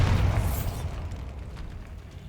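A Bombarda blasting spell from Hogwarts Legacy goes off as a single loud, close boom with a sharp onset, then decays into a rumbling tail of debris over about two seconds.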